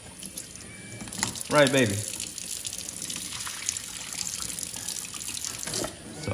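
Tap water runs steadily into a sink or basin while a child's hair is rinsed, a continuous close gush with splashing bursts. An adult speaks briefly over the flow.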